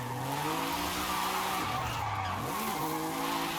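A small low-horsepower car drifting on the Goliath-style mountain road in Forza Horizon, its engine droning steadily while tires screech continuously, the pitch dipping and rising as the car slides through a corner.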